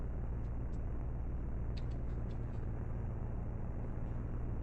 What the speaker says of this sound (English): I can hear the safety car revving